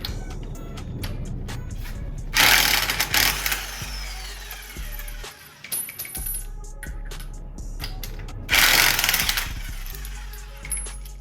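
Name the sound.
removing the wheel from a Ford Focus ST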